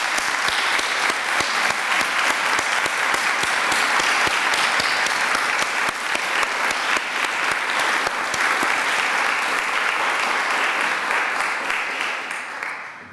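A large audience applauds steadily and loudly for honorees at an alumni awards ceremony, a dense continuous clapping that fades slightly at the end.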